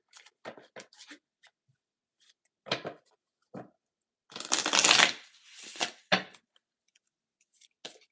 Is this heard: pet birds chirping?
no